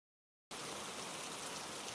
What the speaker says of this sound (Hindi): तेज बारिश हो रही थी।